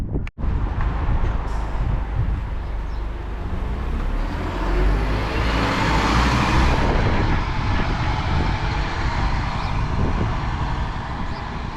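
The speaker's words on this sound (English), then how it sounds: "It's the 61, which heads to Blackpool from Preston, operated by Scania Enviro 400" A Scania Enviro 400 double-decker bus on route 61 between Preston and Blackpool rumbles close by, a loud, steady engine and road roar with wind buffeting, swelling slightly midway and continuing without a break.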